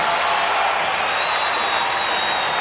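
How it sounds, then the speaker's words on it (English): Basketball arena crowd at an Indiana college game buzzing after a blocked shot, a broad steady roar of many voices and some clapping, loud and sustained with no clear commentary over it. "the crowd buzzing on that block shot"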